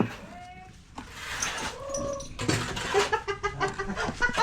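Chickens cluck and squawk at a construction site during a concrete pour for posts, a run of short, fairly close calls that grow busier toward the end, with faint voices in the background.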